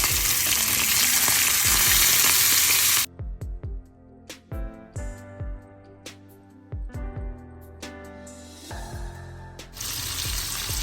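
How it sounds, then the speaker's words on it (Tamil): Prawns drop into hot oil in a pan, bursting into a loud, dense sizzle that cuts off, then crackle and spit in scattered pops before the full frying hiss swells back up. "இறாலை போட்டு பொரிச்சு எடுப்பேன்."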